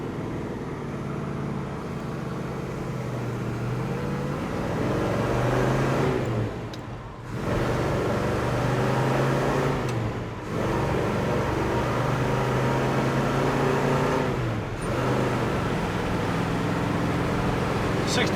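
1970 Chevrolet Chevelle SS accelerating through all four gears: a loud, droning engine note climbs steadily, drops briefly at each of three shifts, then pulls on again.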